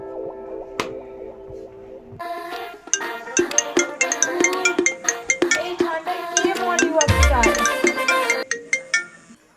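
An incoming call sets a phone ringing, with a melodic ringtone of rapid bright notes that plays loud and close for several seconds and repeats its phrase.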